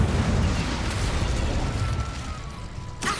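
A fire spell cast in the video game Hogwarts Legacy bursts into a loud, sustained roaring explosion with dense crackling noise, then a sharp whoosh near the end.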